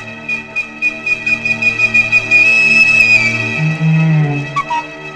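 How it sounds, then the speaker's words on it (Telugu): A loud, close, sustained whistle holds a steady tone over pulsing background music, then slides into shorter notes. "ఎవడే నీకు విజిల్ వేస్తున్నది?"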